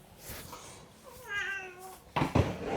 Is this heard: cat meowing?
yes